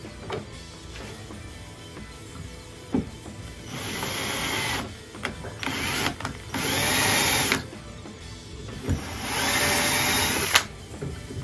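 A power drill bores pilot holes into a wooden hand saw handle, whining in three separate bursts of a few seconds each, with quieter pauses and handling noise between them.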